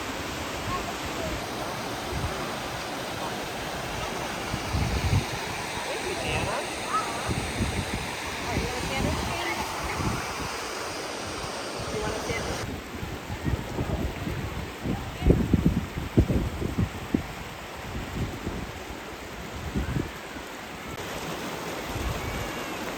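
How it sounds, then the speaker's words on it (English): Steady broadband rush of a large waterfall on a hiking trail in Payson, constant and fairly loud, with wind buffeting the microphone and a noticeable shift in tone partway through. "the waterfall behind me is the biggest one"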